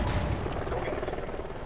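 Sustained gunfire aimed at an enemy helicopter in Call of Duty Ghosts, a continuous rattling stream of shots throughout with a heavy low rumble, steady and loud, with voices likely mixed in.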